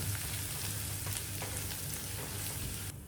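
Chopped garlic and a slit green chili frying in oil over a very low flame, giving a steady soft sizzle and crackle throughout with no talking.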